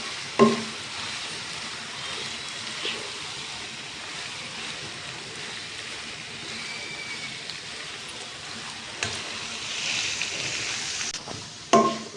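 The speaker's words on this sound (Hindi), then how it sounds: "अच्छे तरीके से मिक्स करें ताकि सारी चीज़ें इसमें अच्छे से मिक्स हो जाए।" Chicken vegetable macaroni is stirred in a pan. A soft, continuous scraping and light sizzle go on under a faint hiss, with a few sharper knocks near the start and the end.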